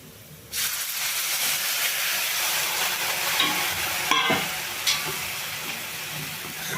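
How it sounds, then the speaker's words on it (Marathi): Water is poured into a pan of sautéed vermicelli, triggering a sudden loud sizzle and hiss that continues steadily, with a few stirring scrapes and clinks partway through. "आता आपण यामध्ये थोडं थोडं करत पाणी टाकणार आहोत।"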